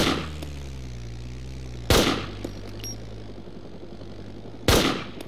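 Two gunshots ring out about three seconds apart in the video game DayZ, aimed at a player riding an ATV, each a sharp loud crack with a brief decaying tail over a low steady engine hum.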